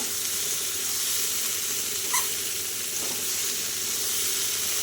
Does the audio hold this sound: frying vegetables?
yes